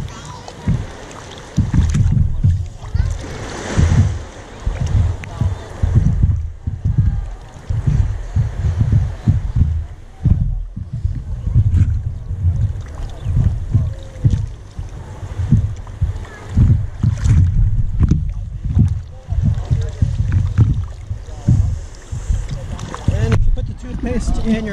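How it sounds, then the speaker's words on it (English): Water sloshes and splashes close by as a snorkel mask is rinsed in the sea, steady irregular bursts over roughly twenty-five seconds with wind buffeting the microphone. "So I'm going to go ahead and rinse the mask off."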